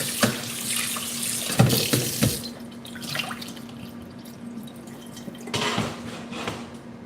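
A kitchen tap runs water to cook rice, with a strong splashing rush at first, then a quieter trickle and drips, before the flow splashes up again near the end. Close and clear, with no talking.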